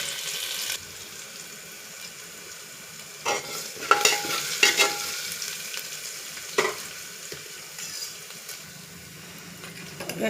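Cloves, pepper and ginger-garlic paste hit hot oil in a pan as a bottle gourd curry is cooked, giving a steady close sizzle with stirring scrapes and a few louder clatters, no talking.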